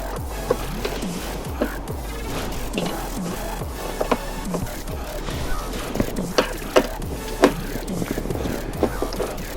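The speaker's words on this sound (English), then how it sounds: "I'm going to screw into the clip that I placed there earlier" A short screw with a washer is driven into a mudflap clip on a 2002–2007 Subaru WRX/STi, giving a steady close-up whirring with repeated small clicks and ratcheting ticks throughout.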